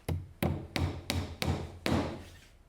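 Six sharp hammer strikes drive plastic cable clips with metal nails into a wooden joist, landing one after another at a steady pace, each a crisp close knock with a short ringing decay.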